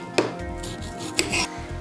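Two crisp knife strikes on a cutting board, one near the start and one past the middle, sound close and distinct while strawberries and peeled kiwi are cut for a strawberry-kiwi milkshake.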